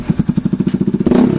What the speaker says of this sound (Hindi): RS में तो हम लोगों ने आपको विदाउट डीबी किलर एक्रोफोबिक की साउंड सुना दी